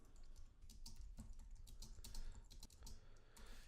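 Quick, steady clatter of keystrokes on a computer keyboard while code for a while loop is typed, a close, continuous run of light clicks with no talking.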